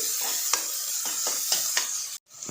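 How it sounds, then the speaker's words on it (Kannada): Finely chopped onions and green chillies fry in oil with a continuous close sizzle, broken by several rhythmic scrapes of a spoon stirring the pan. "ಚೆನ್ನಾಗಿ ಉಟ್ಕೊಳ್ಬೇಕು ಈರುಳ್ಳಿನ ಎಣ್ಣೆಯಲ್ಲಿ"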